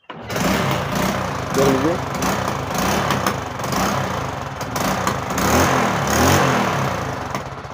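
A kick-started motorcycle engine runs steadily throughout, a continuous mid-level rumble with slight surges after a starter repair, while someone speaks over it.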